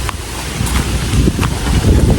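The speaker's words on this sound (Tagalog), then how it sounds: "Mahangin ngayon dito sa lugar nila" Wind blowing through a tree-filled roadside area, steady loud rumbling gusts buffeting close with low roar throughout and no talking.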